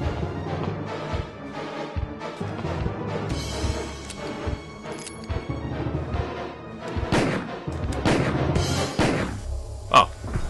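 Gunfire in the PS1 video game Resident Evil, a rapid string of sharp shots over a tense game soundtrack, fairly loud and close, ending with a distinct final report.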